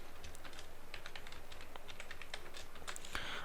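Fingers type a username and password on a computer keyboard, with steady rapid key clicks running throughout at moderate volume over a low hum, no voices.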